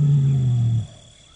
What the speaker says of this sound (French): Ces rugissements indiquent sa présence aux femelles qui se trouvent sur son territoire